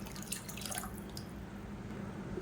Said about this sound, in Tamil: இப்போ இன்னும் கொஞ்சம் தண்ணி சேர்த்துக்கலாம்.